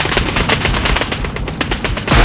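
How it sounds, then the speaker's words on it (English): A machine gun fires in a relentless, rapid stream of sharp, loud shots with no pauses, sustained over dense rumbling background noise. "The machine gun does not pause."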